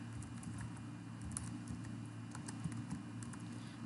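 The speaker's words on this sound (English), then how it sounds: "Now I am going to type in District A," Steady, fairly quiet typing on a computer keyboard, with light rapid keystrokes over a constant low hum and no voices.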